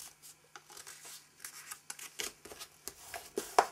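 Paper being creased and folded by hand for a desk organizer craft, soft rustling and brushing scrapes in short, close, quiet strokes with no talking.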